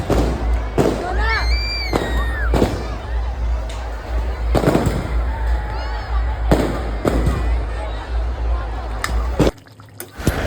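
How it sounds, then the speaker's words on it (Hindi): Firecrackers burst during Diwali-season celebrations, sharp cracks and pops scattered at irregular intervals across the stretch, with whistling rockets rising between them over a steady low outdoor rumble. "पटाखा फुट रहा"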